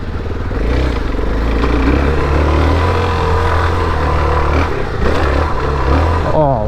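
A Suzuki DR-Z4S motorcycle rides over gravel with traction control in gravel mode, its engine droning loud and steady throughout with rising revs and scattered clatter of loose stones near the end.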